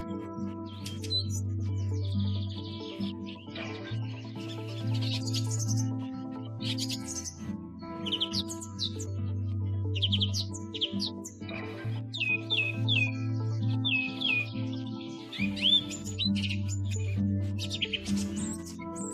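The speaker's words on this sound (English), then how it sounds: "Their calls, clear, high-pitched chirps, are heard frequently as they soar through the sky in small flocks" High, clear chirps and squawks from a small flock of African birds, bursts of bright calls scattered over about twenty seconds above a steady low musical backdrop.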